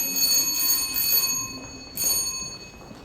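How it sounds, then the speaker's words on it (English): A start bell or buzzer for a nursing-college OSCE exam station, a steady bright ringing tone sounding loudly in two bursts with a short gap between, with no talk. "So the buzzer starts now."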